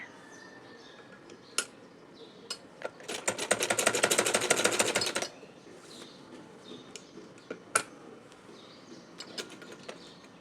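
A sewing machine stitches a kurti sleeve in one fast, rattling burst of about two seconds, close and clear, with scattered clicks and fabric handling before and after and no talk.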